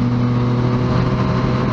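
Motorcycle with poor suspension accelerating gently out of a corner, a steady, close engine drone with strong low harmonics and no talk, holding an even note throughout.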